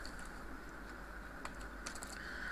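Fast keystrokes on a computer keyboard while code is entered, a steady run of light, close clicks with a few sharper taps, no talking.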